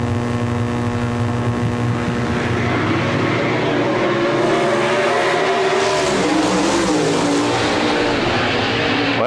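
360 sprint cars race around Park Jefferson Speedway, a loud, dense roar of several engines blending and shifting in pitch as the pack passes, sustained for the whole stretch with no talk.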